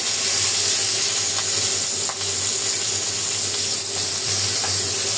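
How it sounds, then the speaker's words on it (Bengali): Fish frying in a pan, a loud, continuous hiss and sizzle close by with faint ticks now and then and no voices. "এদিকে মাছও ভাজা হয়ে যাচ্ছে।"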